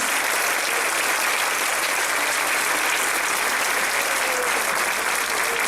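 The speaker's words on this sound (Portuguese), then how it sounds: "Vamos aplaudir mais alto ao Senhor Jesus?" Loud, sustained clapping from a large church congregation fills the whole stretch, dense and continuous without pause.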